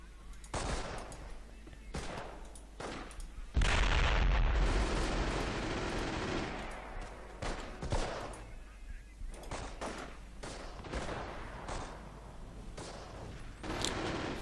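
A mortar barrage lands on a half-track in Company of Heroes, a World War II strategy game. Booming blasts and rumbling gunfire rise to one heavy explosion, and scattered shots and impacts follow.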